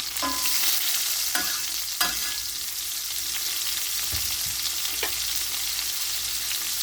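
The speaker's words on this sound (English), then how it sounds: "We're now going to take and add thinly sliced onions from a small yellow onion." Thinly sliced yellow onion frying in chicken fat and olive oil, a loud continuous close sizzle broken by a few sharp spatula scrapes and taps against the pan.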